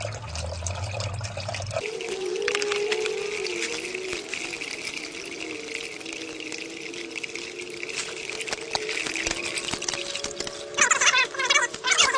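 Engine oil drains out during a car oil change, a continuous liquid gushing and pouring stream that splashes louder toward the end.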